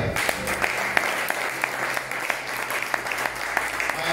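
Church audience clapping and acclaiming the Lord during an evening message, a fairly soft spread of applause with a few sharper claps standing out, voices faintly mixed in.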